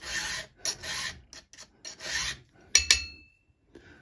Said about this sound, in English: Let's switch to a nice fresh new file.